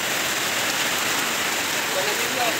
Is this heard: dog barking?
no